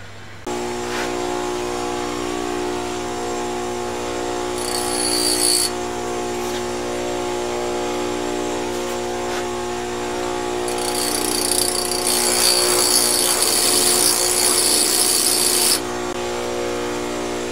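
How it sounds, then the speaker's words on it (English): A grinding wheel grinds a window profile, a sustained mechanical whine with a steady pitched hum and harsh, hissy bursts of abrasion where the wheel bites harder. It is loud, close and continuous, with no talk. "So you want to grind your profile first before you start putting your relief on there"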